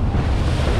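Strong wind roars against the microphone with broad sea spray and wave wash during a boat's sea trial, loud and continuous with no voices.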